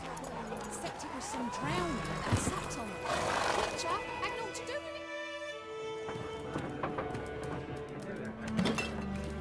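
Roach, Geralt's horse in the Witcher 3 video game, gives a loud whinny, and hooves clop with light clinking tack. A voice talks over parts of it.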